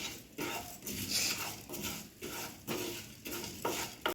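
Pepper and spices being dry-roasted and stirred in a pan for a rasam, with repeated scraping strokes of a spoon against the pan in a steady rhythm and a faint sizzle underneath, heard close with no talking.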